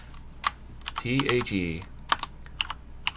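Computer keyboard keys clicked during logo digitizing work in design software, a few quick separate taps scattered across the moment while someone talks over them.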